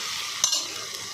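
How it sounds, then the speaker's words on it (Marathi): Khichdi ingredients sautéing in a pan over a full-flame gas burner, giving a steady close sizzle with a couple of brief stirring clinks, and no voices. "मस्त फुल गॅस करून द्यायचा आणि छान असं परतून घ्यायचं."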